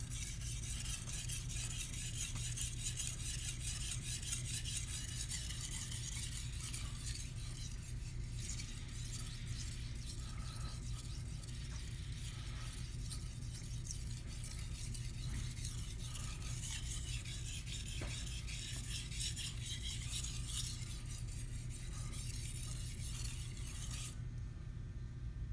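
A Japanese kitchen knife is sharpened on a whetstone, a continuous quiet gritty scraping of steel on stone in steady back-and-forth strokes with no talking.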